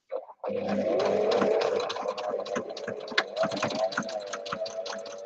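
A sewing machine runs steadily at close range, its motor whirring with rapid mechanical clatter and small shifts in speed.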